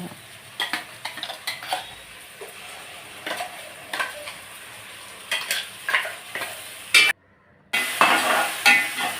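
Masala gravy with tomato paste and salt being stirred as it fries for Andhra-style country chicken curry, a spoon scraping the pot in repeated strokes over a steady sizzle, with a brief dropout before the frying resumes louder.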